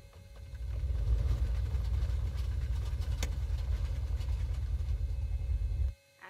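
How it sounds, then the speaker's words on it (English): Left engine of a Beechcraft in the X-Plane 11 flight simulator starting up, a low rumble that rises within a second, holds steady and steady-droning for several seconds, then cuts off abruptly. "Okay, we're going to start up in left engine first."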